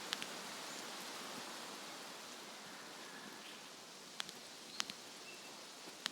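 Steady rain falling in the video game Escape from Tarkov, a faint, even hiss spread across the whole clip with a few soft ticks and rustles near the end.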